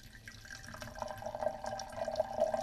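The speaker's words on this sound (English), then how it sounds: "You can probably hear the water coming out of the Kangen there." Water flows out of a Kangen SD501 water ionizer, a soft, close trickle and splash that builds gently over a few seconds.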